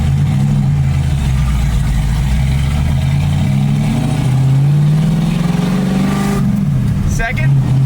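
A 1965 Ford Mustang accelerates in first gear, its engine droning loud and close with a rising pitch that climbs steadily before cutting off as the gear change comes, while people talk over it inside the car.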